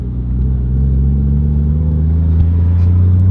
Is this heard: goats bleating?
no